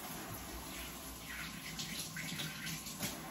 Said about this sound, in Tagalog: So, banlawan muna natin.